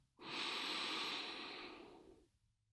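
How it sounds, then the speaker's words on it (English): Slow inhale through the nose during a Reiki breathing exercise, one long close airy rush that swells quickly, holds steady, then fades over about two seconds, soft and alone. "I want you just to collect the energy with an inhale through the nose"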